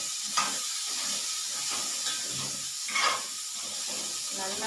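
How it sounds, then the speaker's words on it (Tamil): Sliced bitter gourd (pavakai) sautés in a hot pan without onion or masala. A steady close hiss and sizzle carries a few brief scraping stirs. "நல்லா வதக்கணும்."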